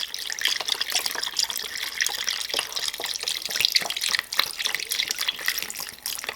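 Water runs steadily into a pot of Nigerian chicken imoyo, a continuous bright splashing pour with small irregular drips and spatters, close and moderately loud throughout.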